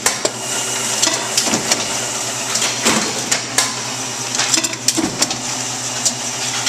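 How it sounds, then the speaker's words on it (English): A Bourg SBM bookletmaker's trimmer cuts a booklet set, giving a steady mechanical machine hum with scattered sharp clacks and thumps of the blade and feed, loud and close with no talking. "Here it is entering the trimmer and being trimmed."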